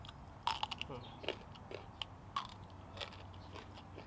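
Raw young galangal is bitten and chewed outdoors, giving a string of faint, brief crunches and crackles over about four seconds, with no talk over them.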